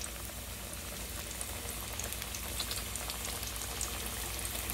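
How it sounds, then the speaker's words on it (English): Chicken fried steak fries in oil at 350 degrees with a steady, dense crackle and sizzle throughout, with no voices. "so I'm gonna put the first chicken fried steak in there"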